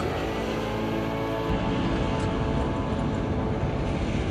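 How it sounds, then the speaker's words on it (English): Steady engine and road drone from inside a 2023 Land Rover Defender 130 under way, a continuous loud broadband rumble with a low tone that shifts slightly partway through, no voices. "And now here we are driving in this Land Rover Defender 130."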